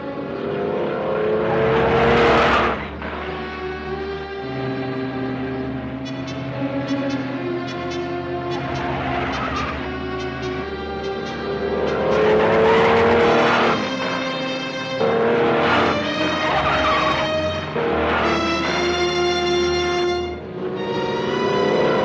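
A 1950s car speeds along on a road speed test, its engine loud and close, rising and falling in pitch through repeated acceleration and gear changes, with no talking.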